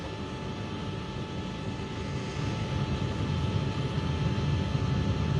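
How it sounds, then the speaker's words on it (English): An aircraft engine drones steadily on a cockpit recording made just before a crash, a constant broadband roar that swells slightly louder toward the end, with no talk. "We try to analyze the sound of the engine."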